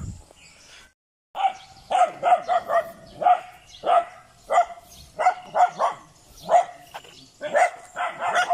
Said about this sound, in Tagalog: Dami pong aso.